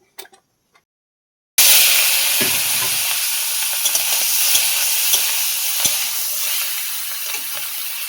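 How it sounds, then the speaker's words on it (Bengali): Crabs frying in hot oil in a wok, a sudden loud sizzle that bursts in after a quiet start and keeps going strongly, with faint scraping knocks of stirring. "কাঁকড়াগুলো ভেজে নেব।"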